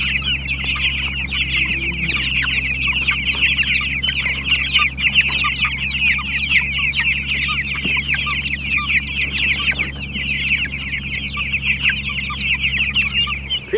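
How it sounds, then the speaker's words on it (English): A flock of chickens and turkeys clucks and chatters continuously on a farm, a busy layered murmur of bird calls at steady moderate loudness with no talking. "Hi, chickens and turkeys."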